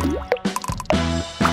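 Water splashes onto gelatin as a dessert is made, giving a quick run of soft plops and drips spaced unevenly over a second and a half, with brief tonal sounds mixed in.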